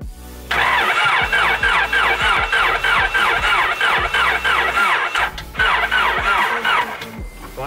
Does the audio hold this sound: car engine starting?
yes